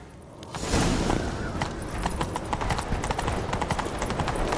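Rapid hoof beats gallop steadily and loudly, a continuous drumming rhythm of a horse at full speed, in the video game The Witcher 3: Wild Hunt.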